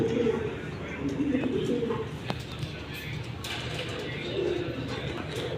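Pigeons from a Military Silver collection coo in low, throaty rolling calls, several overlapping bursts close by, while someone talks over them.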